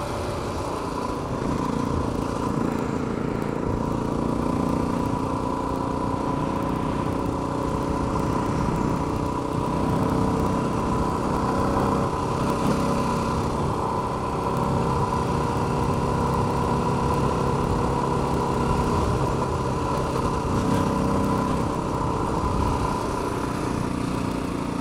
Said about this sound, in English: you can just let the motor kind of chug along and it'll still break loose the back tire